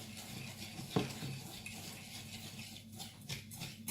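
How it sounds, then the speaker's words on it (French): A homemade dishwasher tablet mixture is stirred slowly, a faint, soft scraping with one sharp clink near the start, quiet and steady with no voices. "Et là, on mélange."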